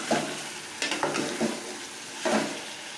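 Chicken frying in a pan over a high flame, with several short bursts of spoon scraping and stirring over a faint, steady sizzle, close and moderately quiet, no voices.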